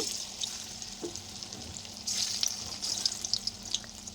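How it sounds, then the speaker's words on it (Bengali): Banana flower kofta fry in hot oil in a wok, giving a steady crackling sizzle with bursts of popping and occasional soft utensil taps, close and continuous, with no talking. "কড়াইয়ের মধ্যে তেল দিয়ে তেল গরম করে আমি মোচার কুপ্তাগুলি ভেজে তুলে নিয়ে নেব"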